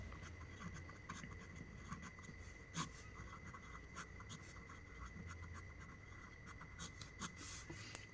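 Faint, scratchy strokes of writing on a board or paper while a lens diagram lesson is set out, with scattered short marks and taps over a quiet room hum.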